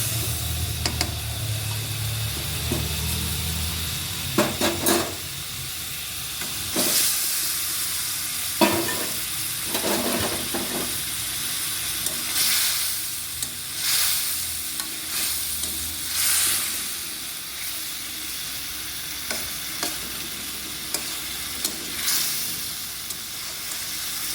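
Steady sizzling of fish frying in hot oil for chilli fish, a continuous close hiss with intermittent scraping and stirring clatter from a spatula in the pan, no talk.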